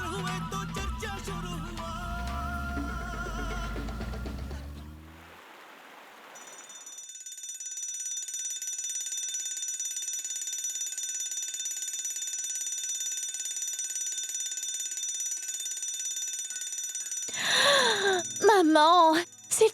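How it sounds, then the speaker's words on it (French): An alarm clock rings as a loud, steady electronic tone held for about ten seconds, preceded by a stretch of music and followed by a brief groaning voice. "Maman, s'il te plaît, éteins le réveil."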